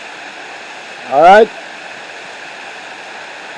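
A hidden waterfall in the hills of Portland, Jamaica pours with a steady, even rush of water throughout, broken briefly by a single short spoken word.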